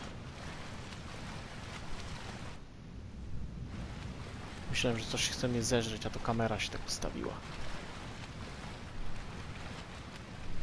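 Water splashes and washes around as a character swims in Shadow of the Colossus, a continuous wet ambience beneath someone talking in Polish partway through.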